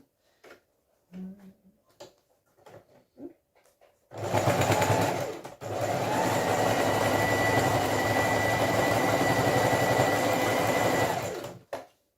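A sewing machine stitches a foundation paper pieced quilt block. After several seconds of small handling taps, it starts up loud and close, pauses briefly, then whirs steadily for about six seconds before stopping.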